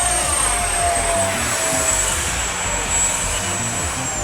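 FMS Rafale 80mm electric ducted-fan RC jet flying aerobatics with strong rudder, a steady loud whine and rush holding level throughout with faint pitch shifts as it passes.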